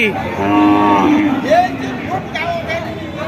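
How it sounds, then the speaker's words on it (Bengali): A loud, drawn-out cow moo rises and falls nearby at a cattle market selling thin, bony cows, followed by shorter lowing calls, with people chattering in the background. "শুকনো হাড্ডিসার গরু দেখতে পাচ্ছেন কি"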